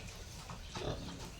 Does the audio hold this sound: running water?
no